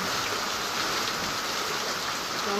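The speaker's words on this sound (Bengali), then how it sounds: "দেখেছো নিম্নচাপ আর ছাড়ছে না কলকাতাতে দেখো প্রচুর বৃষ্টি" Heavy rain pours down in Kolkata during a low-pressure spell, a dense, even roar of falling water that holds steady throughout, with no voices.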